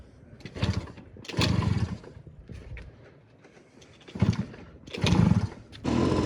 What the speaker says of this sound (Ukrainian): мені продали цей мопед як не на ходу, а він заводиться